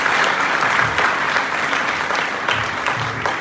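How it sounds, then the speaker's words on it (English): Steady, dense applause from an audience at the X-Genesis'22 speaker session, greeting the speaker as a continuous wash of clapping with a few louder bursts. "Can we have a round of applause for AK?"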